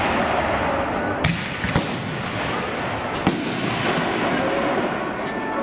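At an outdoor open shoot night at a fireworks site, fireworks go off. Several sharp cracks and bangs, about four clear reports, rise over a steady rushing background in an open space.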